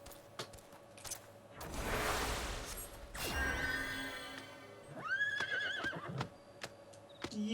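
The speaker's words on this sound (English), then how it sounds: "there's an eager mare over here" A mare in the Final Fantasy XIV video game neighs in a long, loud whinny amid hoof clip-clops, swishes and game effects, with no speech.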